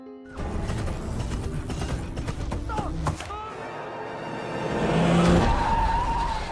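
A car screeches with skidding tires as it strikes a person in a film scene, a sharp squeal and mechanical clatter followed by a swelling engine roar and background music.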